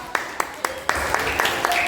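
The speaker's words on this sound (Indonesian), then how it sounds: "tepuk tangan untuk kelompok 2" Children in a Surabaya primary school class clapping in a rhythmic, evenly spaced pattern, about eight sharp claps in under two seconds over classroom noise.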